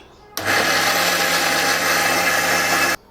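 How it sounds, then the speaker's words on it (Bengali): An electric mixer grinder whirs loudly as it grinds soaked lentils with ginger and green chilli into a paste, starting abruptly and running at a steady high whine for over two seconds before cutting off sharply. "এরপর এই ভেজানো ডাল আর আদা কাঁচা লঙ্কা নিয়ে মিক্সিতে পেস্ট করে নেব।"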